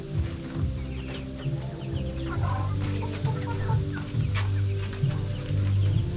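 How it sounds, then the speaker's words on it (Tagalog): A flock of chickens clucks steadily as it leaves the coop, with overlapping short calls near and far over a constant low droning background. "Ayun na guys, nagsilabasan na yung mga manok natin."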